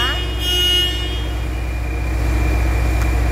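Truck horn triggered through a newly installed radio-control kit, sounding a sustained tonal honk over a constant low engine idle while people talk nearby.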